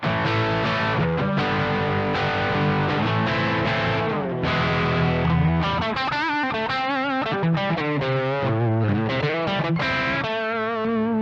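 An electric guitar on the bridge pickup plays through a NUX 6IXTY 5IVE overdrive pedal with reverb, producing gritty, distorted chords and single-note riffs that ring out continuously alone.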